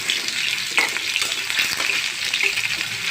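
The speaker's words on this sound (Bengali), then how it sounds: "গরম হয়ে গেছে, এখন আমি আলুগুলো দিয়ে দিব।" Potatoes frying in hot oil in a pan, a steady, close sizzle with crackling bursts running throughout, no voices.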